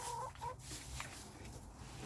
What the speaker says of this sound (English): She is usually, Olivia, she's usually the first one up there in the roost.